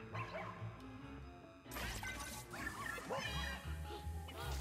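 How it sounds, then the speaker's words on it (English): A ghost dog barks in the video game Luigi's Mansion 3, several yappy barks popping out of busy game music and effects, with a player's voice talking over the action. "Doggo's helping me out, such a good dog."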